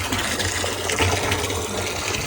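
Water from a motor pump gushing steadily into a drum, a continuous close splashing rush with a low pump hum underneath, no voices.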